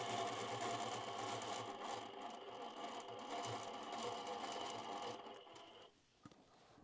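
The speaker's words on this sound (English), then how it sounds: "so he's just doing freehand quilting tonight." An Innova Autopilot Mach 3 quilting machine stitches freehand quilting on a table runner, a steady rapid whirring hum that runs continuously for about five seconds before winding down and stopping.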